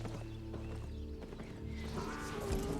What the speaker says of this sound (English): Why does the donkey take so long?